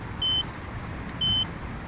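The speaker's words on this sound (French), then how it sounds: "On a un bip sonore. On dirait un camion qui est en train de reculer." An Ausom DT2 Pro dual-motor electric scooter horn gives two short electronic beeps, evenly spaced about a second apart, high and thin over a steady low background hum.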